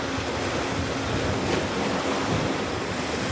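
Sea waves and wind on the open sea, heard near small boats pushing out against the surf: a continuous, loud roar of wash and wind noise that stays dense and steady throughout, with no voices.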